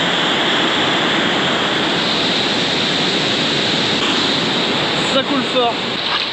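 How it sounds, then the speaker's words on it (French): Water rushes steadily and loudly past an old disused power plant in the countryside, a constant broadband flow, with a few faint sounds rising near the end. "il y a de l'eau qui coule là"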